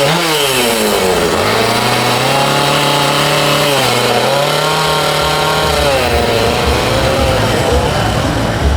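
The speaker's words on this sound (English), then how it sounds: "They're doing chainsaw carving right behind us." Chainsaw carving at an outdoor fair, the saw engine revving and bogging in steady rising and falling pulls, loud and close, running continuously with crowd noise behind.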